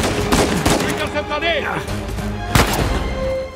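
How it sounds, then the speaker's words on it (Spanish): Gunfire rings out in an Uncharted 4 firefight, with sharp broadband cracks and bursts spread over several seconds, one heavy blast standing out, beneath excited shouting. "¿Quién me dispara?"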